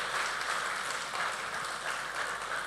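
Crowd applause for Gudur Narayana Reddy at the Razakar film pre-release event, a steady, dense wash of clapping lasting a few seconds at moderate distance, with no voices over it.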